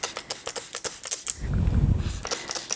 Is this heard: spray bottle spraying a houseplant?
yes